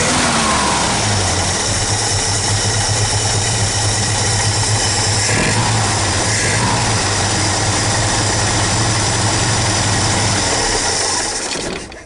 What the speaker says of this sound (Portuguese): Vamos ver se eu consigo dar uma ligadinha nele, Bianca.